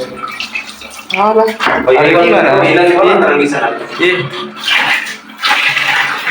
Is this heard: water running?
yes